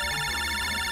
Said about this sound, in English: Lan, you got a phone call.